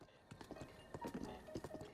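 Horse hooves clip-clop in The Legend of Zelda: Breath of the Wild, a quick, even run of soft thudding footfalls at low volume over about two seconds.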